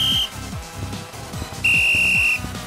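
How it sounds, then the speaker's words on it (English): A shrill steady whistle tone from the video game Gorilla Tag sounds twice, a brief blast then a longer one, over a busy backdrop of bouncing, rhythmic game sound effects, with no talking. "I didn't think that was a whistle."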